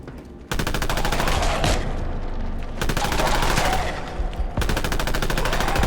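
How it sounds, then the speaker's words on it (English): Sustained automatic gunfire from a machine gun in the video game Fallout London, loud and close, in long rapid bursts with two short breaks, no voices. "Oh, gun him down."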